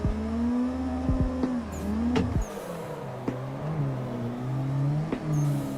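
Turbocharged car revving hard during a drift session in the racing sim Assetto Corsa, engine pitch repeatedly rising and dropping with sharp shift cuts and brief tyre squeals, loud and close.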